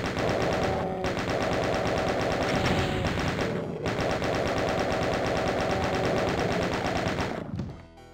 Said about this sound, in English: Then I'll go for the chain gun.